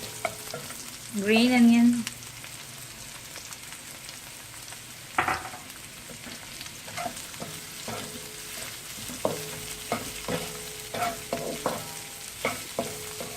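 Mongolian chicken with green onion stir-fried in a pan: a short scraping toss, then sporadic utensil clinks and light sizzling; someone speaks briefly over a faint cooking hiss.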